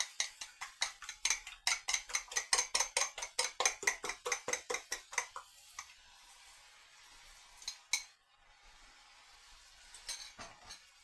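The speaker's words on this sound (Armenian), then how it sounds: "Հիմա ձուն էլ հարեմ," A utensil beats egg to add to vermicelli pilaf with greens frying in a pan, giving about twenty quick, even metallic clinks close by. The strokes then stop, followed by a few scattered taps.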